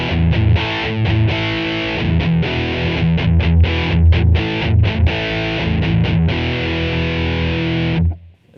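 Distorted electric guitar played through a Line 6 Floor Pod Plus amp modeler with an impulse response cabinet loaded, a loud chugging riff of repeated choppy chords and palm-muted bursts before ringing out and cutting off.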